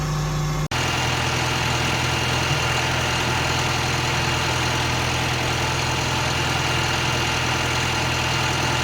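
Engine held at about 1500 rpm to warm hydraulic oil for a load-sensing flow test, a dense, steady droning hum after a brief cut at the start, constant and loud.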